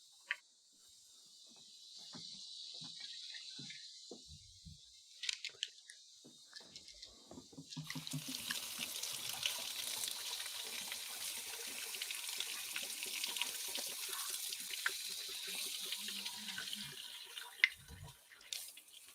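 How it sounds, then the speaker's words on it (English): Coffee cups rinsed under a running tap, soft handling clinks and taps at first, then a steady close rush of water for most of the stretch, faint and with no talk. "Okay, I'm going to run these under some water."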